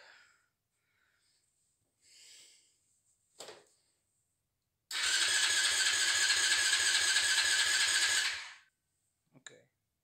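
A 110cc pocket bike engine cranks for about four seconds without catching, a loud, steady rhythmic turning-over that stops abruptly, with brief breaths and faint sounds before and after.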